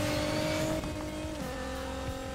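A car in the Need for Speed Payback racing game roars continuously at high revs with a steady engine drone. The pitch shifts and there is a faint tire squeal, with no talking.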